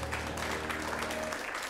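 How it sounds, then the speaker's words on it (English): An improv comedy show audience gives a short, steady round of applause, fairly quiet and continuous, with a faint tone running underneath before it thins out. "give yourselves a round of applause"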